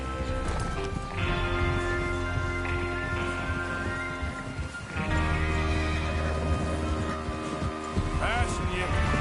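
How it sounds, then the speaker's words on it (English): Horses whinny and neigh repeatedly in a video game, loud and close, over a busy bed of game music, clip-clopping hooves and talk, with a sharp whinny rising near the end. "Get your horses ready."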